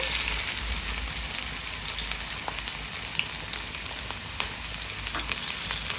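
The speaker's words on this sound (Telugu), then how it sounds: "నూనె మంచి వేడెక్కింది కదా ఆనియన్లు వేయాలి" Onions frying in hot oil, a dense continuous sizzle with small crackles and pops scattered across it, close and even in loudness.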